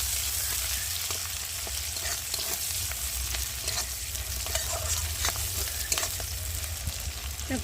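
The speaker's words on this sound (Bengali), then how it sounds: "কটা কাঁচা লঙ্কা দিয়ে পেঁয়াজটা একটু ভালো করে ভেজে নেব" Chopped onion and a few green chillies fry in oil, a dense continuous sizzle with frequent spatula scrapes and clinks, close and steady with no talking.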